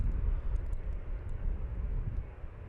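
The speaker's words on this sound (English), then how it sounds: "KLM 737 on its way to Istanbul" A three-year-old KLM Boeing 737 departing Amsterdam Schiphol on runway 36L toward Istanbul gives off a continuous, loud, deep jet rumble that stays steady with no pauses.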